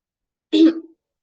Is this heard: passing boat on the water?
no